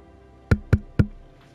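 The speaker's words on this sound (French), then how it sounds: "Monsieur Chat toqua à la porte" Three crisp knocks on a door in a Genshin Impact story reading, evenly spaced and fairly close, sounding alone against a quiet background.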